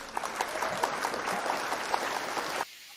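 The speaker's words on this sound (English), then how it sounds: "That deserves applause." Audience clapping in a studio or talk-show setting, a dense, fairly loud patter of many hands sustained for over two seconds before cutting off abruptly into near silence.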